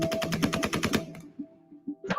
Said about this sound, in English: The Taliban is shooting civilians.